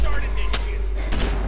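Shotgun fire in a Walking Dead game episode, two sharp blasts about half a second apart over a constant low rumble.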